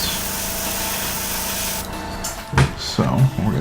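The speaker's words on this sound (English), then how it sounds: "Might be a little too watery because it's spraying like that." An airbrush spraying thinned miniature paint gives a loud, steady hiss for about two seconds, then cuts off into short bursts and a few quieter taps and handling noises.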